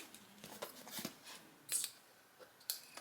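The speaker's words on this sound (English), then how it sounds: "I'm just gonna take the scissors here and just trim around as close to the edge as I can" Scissors trim around the edge of a Dollar Tree pot holder, a quiet close series of irregular snips and crisp metallic blade closures with brief pauses between cuts.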